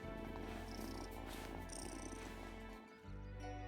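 A cat in the video game Wylde Flowers purrs in a steady, continuous, low rumble over constant game sound, with no talking.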